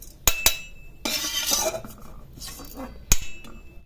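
Roasted cumin and fenugreek tempering tipped from a pan into a steel mixer jar: a few sharp metallic clinks and taps, then a brief rustling rush of seeds sliding in, followed by another crisp clink near the end.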